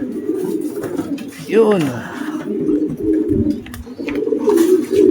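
Racing pigeons arriving back at the loft during hard race training, with a throaty coo rising and falling near the middle, set against steady background noise and occasional nearby talk.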